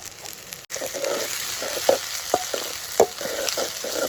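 Cabbage tipped into a hot, sizzling pan for homemade Manchurian, with a steady broadband fry hiss and a few soft clatters of stirring scattered across a few seconds, close and moderately loud, no voices.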